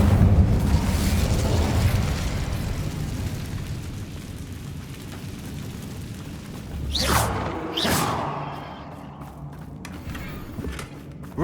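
The Incendio fire spell is cast in the Hogwarts Legacy video game: a heavy whooshing burst opens and decays into a long rumble, then two quick flaring swooshes flash out close together before quieter clicks trail off.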